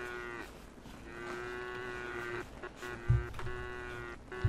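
Cows in the video game Craftopia moo repeatedly, long drawn-out tonal calls that overlap one another, with a couple of soft thumps in between.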